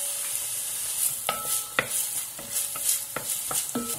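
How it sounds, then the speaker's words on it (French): Onion sautéing in fat in a pan for asparagus risotto, a soft steady sizzle broken by repeated clacking stirs of a utensil against the pot, close and fairly quiet with no talking. "on va laisser cuire jusqu'à ce que l'oignon devienne transparent"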